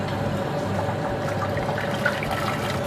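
Steady rush of tap water pouring into a pan for boiling pasta, a continuous, fairly loud flow with no voices.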